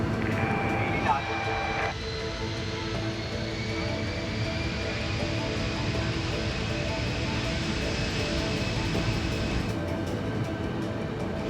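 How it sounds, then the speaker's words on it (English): A Boeing 747 jumbo jet airliner takes off, its engines a loud, sustained roar with a whining tone that slowly rises in pitch, while a voice speaks over the noise. "the nose came up, wheels left the ground"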